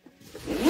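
A zipper on a Skydio 2 drone case being pulled open, a short rising rasp that builds over under a second, close and fairly quiet.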